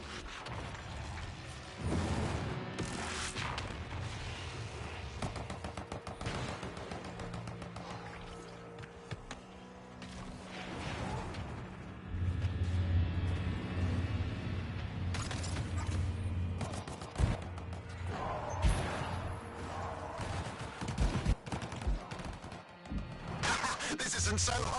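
Gunfire in the Anthem video game, with bursts of shots and booming impacts spread across a busy, loud action scene under a musical score, with spoken game dialogue over parts of it.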